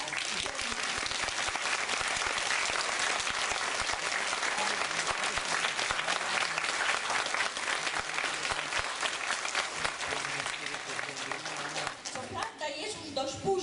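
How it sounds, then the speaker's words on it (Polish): Sustained, dense applause from a theatre audience for an amateur theatre group's performance in Brzostek, a steady roar of many clapping hands that fades near the end, with a voice briefly audible. "Proszę o jeszcze raz o duże brawa dla..."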